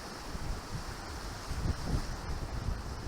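Strong wind buffets the microphone on the bank of a small river, a steady roaring rush with gusts swelling louder partway through.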